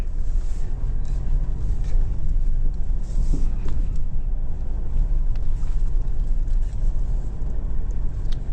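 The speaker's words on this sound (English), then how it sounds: "We're getting a bit of wheel spin happening, but the traction control light is flickering and it's helping me out." A 2025 Mitsubishi Triton GLX-R drives in 4H with some wheel spin, giving a steady, loud low rumble of engine and road noise mixed with buffeting wind.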